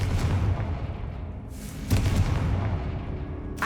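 Confringo blasting spell explosions in the video game Hogwarts Legacy, a couple of dull booming bursts over a dense rumbling background, loud and near.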